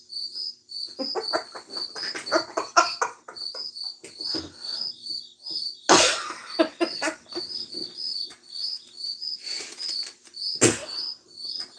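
Crickets trill continuously in quick repeated pulses while nearby clicks, scrapes and two sharp thumps break in, like movement close by in a dark room, with no talk.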